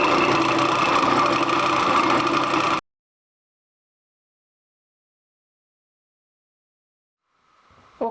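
A motor runs steadily on an almond centrifuge build, a loud, even hum that cuts off abruptly after about three seconds, followed by silence and a faint rising noise at the very end.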